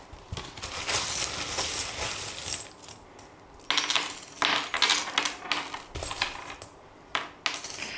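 Small metal charms spill and clatter onto a surface for a tarot-style reading, producing bright jingling clinks in several bursts with brief pauses between them, close and fairly loud.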